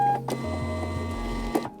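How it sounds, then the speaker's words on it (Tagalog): A thermal printer prints a shipping label, giving a steady low motor hum with a faint whine that runs nearly two seconds, with a couple of small clicks along the way. "So ito yung printed label ko, thermal printer siya."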